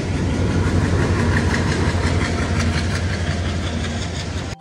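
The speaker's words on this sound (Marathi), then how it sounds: "ट्रेनचा आवाज येईल जाम." A train rumbles past close by near Sion railway station in Mumbai, a loud, continuous roar with faint rhythmic wheel clatter that fades slightly at the end.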